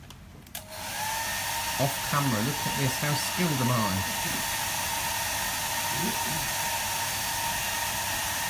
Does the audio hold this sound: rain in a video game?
no